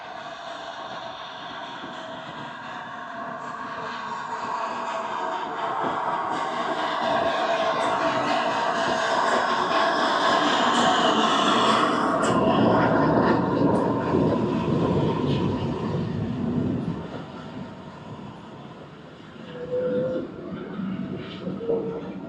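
A steam train pulls into Pickering Station during Stockton Railway 200th anniversary celebrations, a broad rumbling roar that swells steadily to a peak and then eases, with a brief high whistle-like tone near the end.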